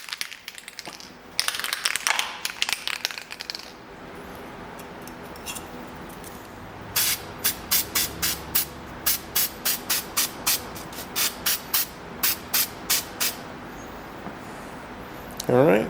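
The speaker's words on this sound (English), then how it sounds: "I'm using Permatex Spray a Gasket Sealant." Permatex Spray-a-Gasket sealant hisses out of an aerosol can in a run of short, rapid spray bursts onto a Dana 20 transfer case part during rebuild, close up, after someone speaks.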